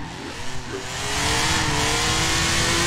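A BMW M3 E46 built for drifting at about 450 hp in Forza Horizon 4, its engine climbing from a low rumble into a loud sustained rev as the car slides.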